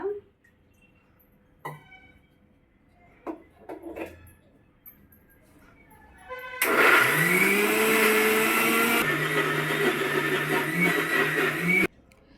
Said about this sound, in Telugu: చూసారు కదా చక్కగా మిక్సీ అయితే వేసేసుకున్నాను